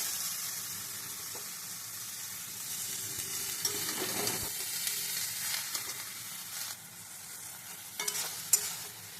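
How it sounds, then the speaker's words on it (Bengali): Water lily stems cooking with shrimp in a pan give a soft, steady sizzle and hiss, broken by occasional stirring scrapes and clicks. "এবার শাপলাগুলো দিয়ে দেবো"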